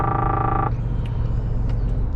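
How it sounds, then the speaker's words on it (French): A lane departure warning chime in a Scania R450 truck cab, a steady sustained electronic tone for under a second, then cuts off leaving only the low engine drone and road rumble. "Donc ça c'est le bruit du franchissement de ligne."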